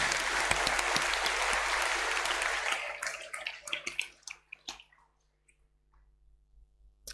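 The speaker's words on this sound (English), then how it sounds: "We'll give them a round of applause to welcome them as well" Dense, loud applause from an awards-night audience welcoming performers of a traditional jig, steady for about three seconds before thinning into scattered claps and fading to near silence.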